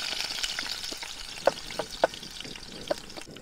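Beans tipped into hot oil in a pan at an outdoor forest campsite, giving a soft frying sizzle with a few brief louder pops and spatters over a steady hiss.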